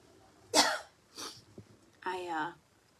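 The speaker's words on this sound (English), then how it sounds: "That sneeze has made me super stuffy." A single close, sharp sneeze bursts out, followed by a short gasp and another breathy expulsion in a quiet room.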